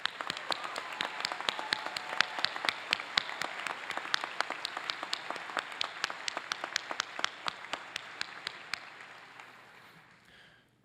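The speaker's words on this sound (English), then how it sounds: "Let's give them a round of applause." A crowd at a Class of 2028 White Coat Ceremony applauds with sharp individual claps standing out, a sustained round that thins and fades near the end, with no speech.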